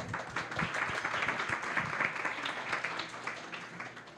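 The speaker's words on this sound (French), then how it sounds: "Merci beaucoup Manon, on peut l'applaudir." Audience at a public science presentation on bacteria applauds a speaker, with continuous, fairly close clapping from many hands that holds steady throughout.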